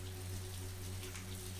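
Soft, steady rain falls in a continuous even patter as calm background ambience. It is faint and low, with no voices.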